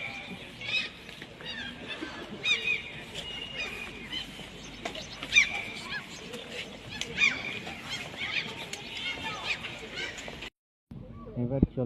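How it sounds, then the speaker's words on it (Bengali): Geese or similar birds honk repeatedly at a scenic spot in Norway, the calls rising over steady outdoor ambience while a voice speaks throughout, before a brief drop to silence near the end. "দেখো পাখিগুলো কত সুন্দর"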